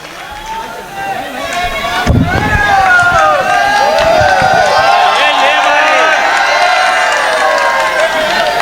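An audience at a poetry gathering welcomes the poet Tabish Ilahabadi with a sudden loud burst of crowd noise, clapping and cheering voices that swells and carries on steadily until the end.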